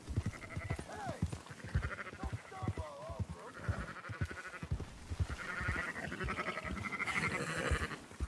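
Sheep bleat repeatedly in the Red Dead Redemption II video game, several wavering calls overlapping near and far, with hoof clatter and game sounds underneath.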